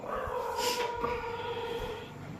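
Dogs howl from somewhere behind a house in a rural Marathi home setting, a long drawn wailing tone held steady across the moment, moderately loud with no talk over it.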